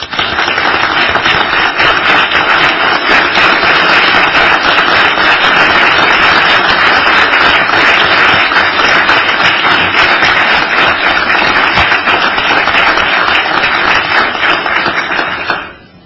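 Sustained applause from a room of people at a UW System Board of Regents meeting, honoring standing veterans; dense, steady clapping that holds loud and even for about fifteen seconds before quickly dying away.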